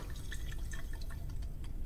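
Water being poured into a glass in Forever Skies, a faint trickle with small drips and light glassy plinks, soft and close against a low steady background hum.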